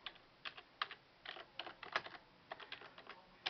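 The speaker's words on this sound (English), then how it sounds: "in this search bar, you'll start by typing KOC" Fingers tap out a search query on a computer keyboard in quick, uneven bursts of crisp clicks, close and alone.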